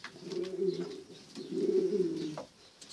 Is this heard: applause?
no